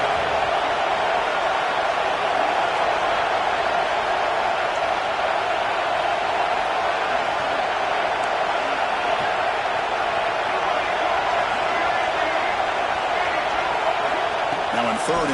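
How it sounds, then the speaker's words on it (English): Stadium crowd noise in the NCAA 26 college football video game, a steady, loud roar of cheering fans holding throughout under the play-by-play commentary. "And this crowd coming to life here, trying to help the defense get a stop."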